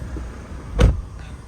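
A 2021 Mitsubishi Triton GSR door shuts with a single solid thump near the middle of the short clip, against a quiet, low cabin hum.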